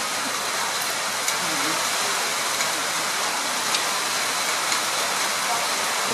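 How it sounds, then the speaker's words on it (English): Rain falls steadily in the Tirimbina rainforest reserve in Costa Rica, a dense continuous hiss with scattered drops landing on nearby surfaces. "It's raining. We're in the rainforest."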